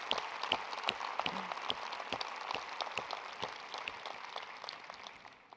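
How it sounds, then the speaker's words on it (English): A conference audience gives a round of applause: sparse, faint claps in a loose rhythm, fading slightly toward the end. "let's give them a round of applause."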